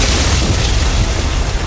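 Missile explosion and burning fire in Dead Space 3, a loud, dense roaring blast with heavy low rumble that stays steady for under two seconds with no pause.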